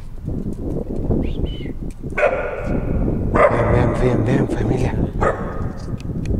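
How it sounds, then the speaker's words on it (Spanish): Dog barking from somewhere off to the side at night near an abandoned orphanage, sharp barks in a few bursts partly under people talking quietly. "¿El perro no nos ladra a nosotros?"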